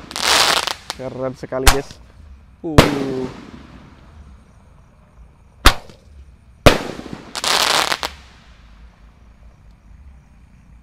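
Roman candle fireworks fire a handful of sharp, loud bangs at uneven intervals, each with a short crackling whoosh, while a voice talks between the shots.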